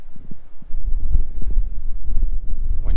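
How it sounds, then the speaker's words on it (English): Cold wind of about 20 mph, gusting near 30 mph, roars and thumps against the microphone in a West Texas snow storm at 22 degrees, with low, uneven bursts close up and no speech. "It's 22 degrees, about a 20-mile-an-hour wind, probably 30-mile-an-hour gust."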